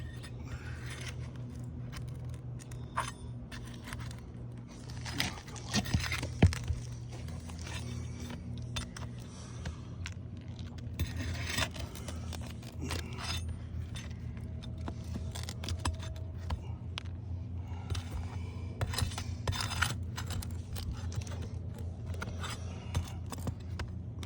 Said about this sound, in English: Now I'm going to have to pull fasteners here and here to release this shingle